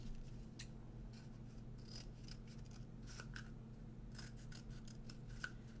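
Scissors snip through a craft piece for a July Fourth kids' project, making repeated quiet, rasping cuts in an uneven rhythm, heard up close with no talking over them.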